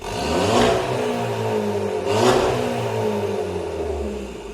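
An Audi A3 fitted with a dual Warex exhaust and downpipe revs twice, each blip swelling into a loud, raspy roar before settling back to a throbbing idle, recorded up close.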